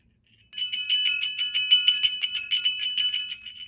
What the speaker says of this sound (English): A jingle bell.